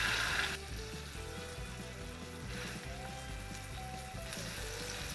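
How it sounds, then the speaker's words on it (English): A vegan burger patty sizzles in avocado oil brushed on a pan at medium-high heat, giving a soft, even frying hiss beneath steady background music. "We'll brush our avocado oil on the pan. We have our first patty."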